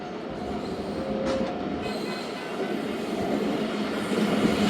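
The Zakariya Express passenger train passes at speed on a fast section of track between Landhi and Bolari near Karachi, a loud sustained rumble of wheels and carriages with a brief metallic squeal, heard close from on board.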